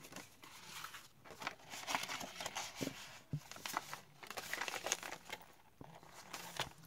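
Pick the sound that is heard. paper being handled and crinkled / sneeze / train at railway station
paper being handled and crinkled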